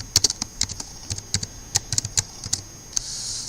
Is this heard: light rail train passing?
no